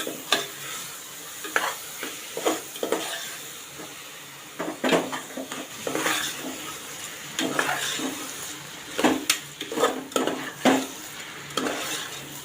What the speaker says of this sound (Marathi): आता तांदूळ पण चांगले मिक्स करून घेऊया